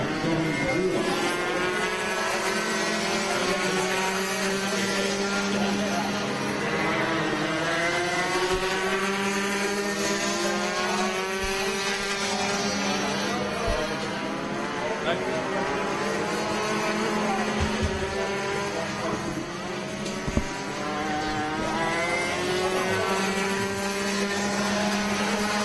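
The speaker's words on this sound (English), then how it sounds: "Joe Zahavi coming down the front straight." Rotax racing karts come down the front straight of a kart track, their engines droning steadily with rising and falling pitch as several pass nearby. A commentator talks over the engine noise.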